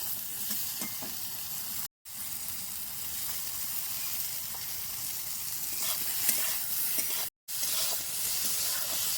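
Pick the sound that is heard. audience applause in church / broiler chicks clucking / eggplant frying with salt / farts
eggplant frying with salt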